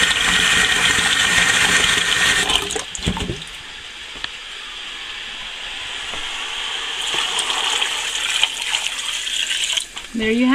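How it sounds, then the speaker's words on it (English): Water gushes steadily into a pot of chopped butternut squash, a continuous splashing rush that softens midway and then builds again, with no talking over it. "But I'm gonna fill it up with water."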